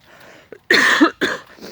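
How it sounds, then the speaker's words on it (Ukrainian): Several harsh coughs from a woman with chronic bronchitis in cold morning air, close and loud, coming in two bursts after a brief throat sound. "Відкашлююсь, тому що я наглотаюсь холодного"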